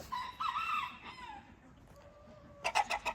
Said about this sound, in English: There's a big rooster right here.